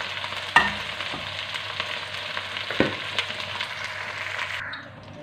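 Okra (bhindi) fries in hot oil in a wok for a korma dish, giving a continuous crackling sizzle with a couple of sharp utensil knocks and scraping stirs, then the frying dies down near the end; no one speaks.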